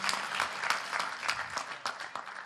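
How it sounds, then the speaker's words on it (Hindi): An audience at a Hindi kavi sammelan poetry gathering claps loudly and steadily for a performer of comic parodies, a continuous wash of applause with a few sharper clap bursts. "एक बार और जोरदार तालियां बजाइए"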